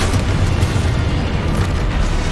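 A Confringo spell explodes during Hogwarts Legacy gameplay, producing a loud, dense, roaring blast that stays steady and fills the whole moment without any break.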